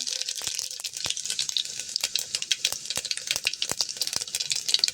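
Cumin seeds and fenugreek fry in hot oil over a low flame for a fish curry, giving a close, bright, crackling sizzle with rapid irregular pops throughout.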